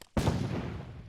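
A sudden, loud explosion effect from LittleBigPlanet 3 bursts in after a brief silence, then rumbles on in a sustained, slowly fading roar with no talking over it.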